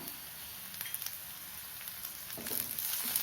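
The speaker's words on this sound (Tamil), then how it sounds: "கருவேப்பிலையும் சேர்த்து கொஞ்சம் நேரம் வதக்கணும்" Curry leaves sautéing with onions for a spicy red chilli dal, a soft continuous sizzle and crackle in the pan that swells slightly louder near the end.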